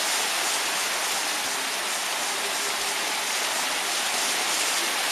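Heavy rain and big hail, melting as it hits, pour down in a steady, dense hiss, loud and close, with no voices.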